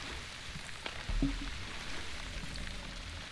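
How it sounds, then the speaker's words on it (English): Light rain falling in a survival video game, a soft, steady patter and hiss at low level, with one brief dull thump partway through. "Oh, we got light rain"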